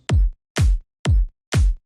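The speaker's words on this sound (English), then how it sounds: "so we got house drums." Four punchy electronic house kick-and-clap hits land at an even pace, each a sharp attack with a short booming tail and silence between.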